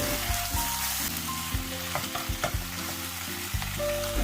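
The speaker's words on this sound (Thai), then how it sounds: "แล้วก็ใส่ผักกวางตุ้งฮ่องเต้ลงไปค่ะ นี่ใส่ซอสเพิ่มลงไปเลย2ช้อนนะทุกคน" Bok choy stir-fried with sauce in a pan over high heat, a loud steady sizzle broken by repeated scraping and clanking strokes of a utensil against the pan, close and without talk.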